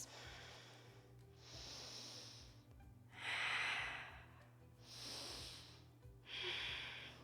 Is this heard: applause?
no